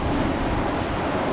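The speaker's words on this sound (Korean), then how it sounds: "지금 이렇게 비가 많이 오고 바람이 세고 파도가 많이 치는데" Heavy rain, strong wind and rough waves at sea off Cebu, where a small fishing boat is out, form a loud, unbroken roar of broadband noise that fills the short stretch evenly.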